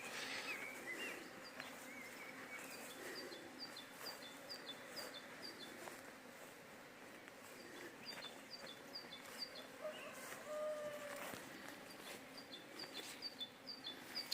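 Bees hum softly around beehives at an apiary, a faint continuous drone, while repeated bird chirps and calls sound in the background.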